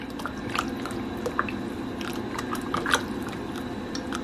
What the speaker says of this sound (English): And now we're gonna mix everything.